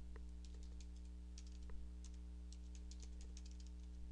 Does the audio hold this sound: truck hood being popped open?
no